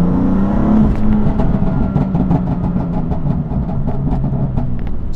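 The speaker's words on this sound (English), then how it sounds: "let's just turn on here and give you guys a little downshift." A BMW M4 CS engine revs and drops through a downshift, with rapid pops and crackles from the exhaust, loud and close.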